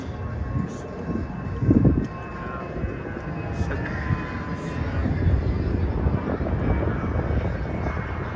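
At night in Brickell, a distant airplane drones steadily overhead, faint under a broad city rumble, with brief voices.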